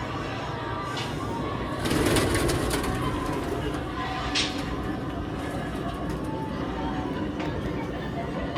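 Pigeons coo softly in a steady, noisy outdoor setting, their low repeated calls mixed into a constant wash of background sound.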